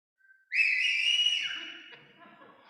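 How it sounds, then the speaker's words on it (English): A conference audience at a lightning-talks session whistles loudly together, one bright sustained piercing whistle lasting about a second, then fading into scattered softer whistles and room noise. "So if you think it's interesting, whistle"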